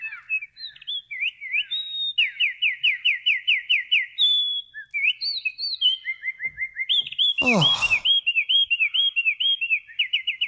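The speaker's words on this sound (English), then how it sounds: "let's listen to the winter wren at 432 hertz" A winter wren pours out a long, rapid series of high trills and warbles, with a brief spoken exclamation partway through.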